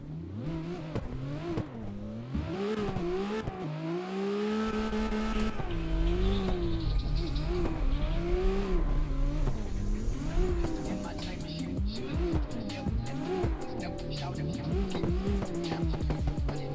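A race car in the video game CarX, its engine revving and wailing up and down through repeated gear changes with occasional tire squeal, loud and sustained over the whole stretch, no talk.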